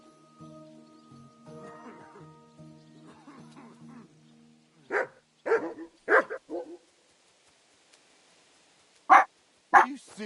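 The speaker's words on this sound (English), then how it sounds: "You silly doggy." A dog barks in a quick series of loud, close yips, then falls quiet before two more sharp barks, with faint whimpering earlier alongside a soft background drone, in a Kingdom Come: Deliverance II game setting.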